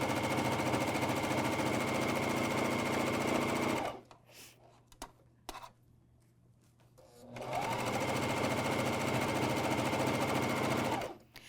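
A MyLock 454D serger stitches a 1.5-inch fabric hem on a pajama top, running steadily and loud, then stopping for a few seconds of near quiet with faint handling before starting up again at the same busy whir.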